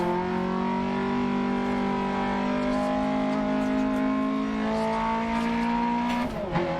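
Front-wheel-drive rally car in the Dirt 2.0 racing game, engine holding a steady high rev note, then dropping in pitch near the end with a brief scuffing burst, loud and continuous with no talk.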